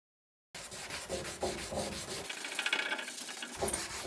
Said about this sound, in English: And slowly I start sanding everything down.